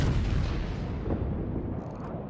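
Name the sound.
ship turret artillery fire in the video game World of Warships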